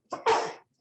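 One sneeze indoors during an education board work meeting, a short sharp burst with a quick intake before it, close and clear against silence.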